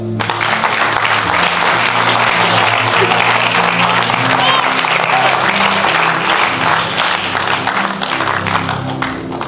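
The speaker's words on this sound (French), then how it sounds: "On acclame." Loud, sustained applause from a large church congregation at a prophetic conference, dense clapping filling the whole stretch with crowd noise and no pauses.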